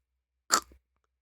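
Someone bites into a chocolate bar, giving a single short, crisp snap followed by a faint crunch, close up in otherwise total silence.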